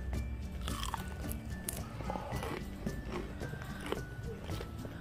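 Crispy fried chicken is bitten into and chewed close to the microphone, giving several soft, quiet crunches in an irregular rhythm.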